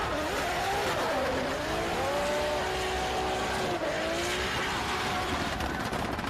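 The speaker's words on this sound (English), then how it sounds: "Anti-lag going crazy in the background." A drift car with a 2J engine screams at the red line around Tsukuba circuit, its loud, continuous engine roar wavering in pitch with tyre noise and turbo anti-lag crackle folded into the din.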